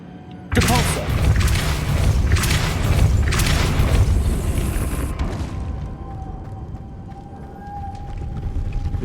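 A Depulso spell cast in Hogwarts Legacy bursts in suddenly as a loud booming blast with several whooshing surges over about four seconds, then cuts to a quieter tail with a faint sustained tone.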